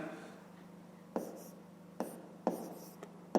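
A pen writes a fraction by hand on paper, a few short, quiet scratching strokes heard up close against a faint, steady background hum.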